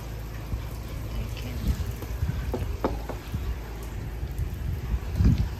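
Heavy rain pours down steadily and loudly outdoors, a dense continuous hiss with a few faint knocks and no speech.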